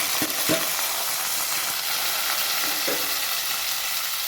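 Dried chillies, onion and curry leaves sautéing in hot oil, a constant close sizzle with a few light scraping stirs in the pan, no voices.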